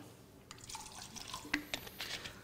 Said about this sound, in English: I'm pouring some fresh samples here.